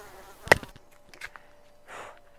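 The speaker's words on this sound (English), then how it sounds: "Guys, there's like a thousand mosquitoes in here." Mosquitoes swarming indoors make a faint, thin whine that runs steadily beneath a sharp knock and a later burst of rustling noise.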